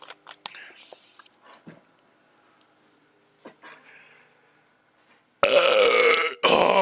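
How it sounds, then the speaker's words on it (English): A podcast host's loud, close burp erupts near the end, a long rough belch broken by a brief pause, after scattered quiet whispers and small mouth noises. "can't be a podcast without my unique qualities of a burp, bro"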